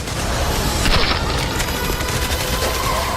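Rapid gunfire from an action film trailer about a heist during a Category 5 hurricane crackles in dense bursts over a loud, constant roar of storm-like noise.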